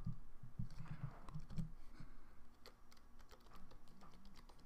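Quick, faint clicks of typing on a keyboard sound close up in a quiet room, in irregular short bursts.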